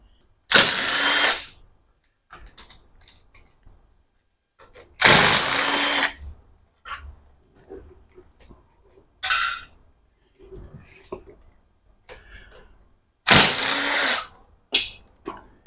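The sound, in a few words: impact gun spinning out bolts with an Allen head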